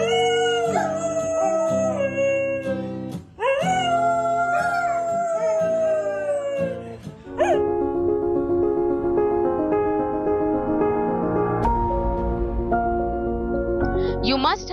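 Dogs howl along with a man singing to guitar at a Sunday sing-along, their long, wavering howls rising and falling close by, overlapping the voice and at times taking over alone.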